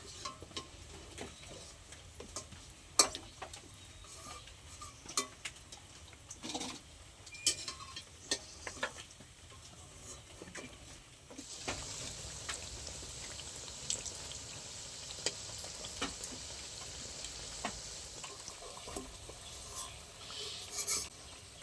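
Nimki pastries deep-fry in oil with a quiet, continuous sizzle, broken by scattered sharp clicks and scrapes of a utensil stirring and lifting them; the frying grows brighter and denser partway through.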